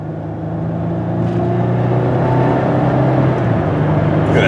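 A 2000 Ford Taurus SE accelerates from inside the cabin, its engine hum climbing steadily in pitch and loudness over several seconds, with smooth gear changes and no talking.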